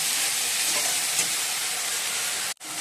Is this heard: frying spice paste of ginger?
yes